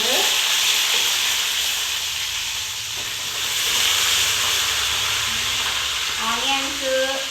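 Onions and chopped chillies frying in a pan with cumin, roasted gram and peanuts for atukulu talimpu, a steady close sizzle and hiss with some stirring scrapes throughout.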